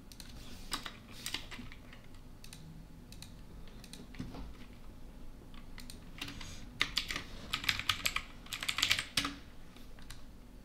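Someone typing a password on a computer keyboard produces quiet, irregular key clicks that come in bursts and grow busier and louder toward the end, with no speech.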